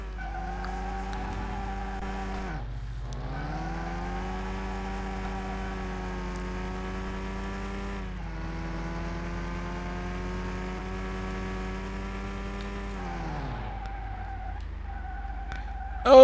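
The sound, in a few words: car wheels spinning without grip in Car Mechanic Simulator 2021 video game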